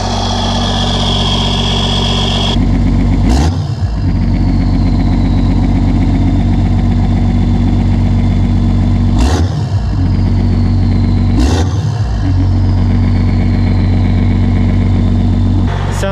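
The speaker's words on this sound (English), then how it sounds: "It's just so loud that it's hard to really define the turbo noise from everything else." A 12 valve diesel truck engine with its turbo silencer ring deleted idles loudly and steadily up close, with low rumbling and a turbo whine, broken by a few sharp revving surges.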